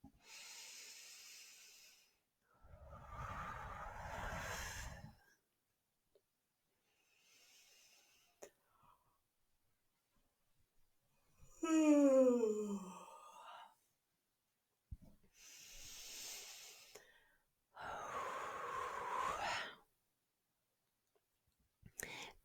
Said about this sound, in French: je pourrai prendre 3 grandes respirations